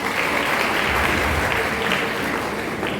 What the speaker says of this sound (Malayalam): നമ്മുടെ 12 മത്സരാർത്ഥികൾക്കും നല്ലൊരു കൈയടി കൊടുത്തുകൊണ്ട് തുടങ്ങാം.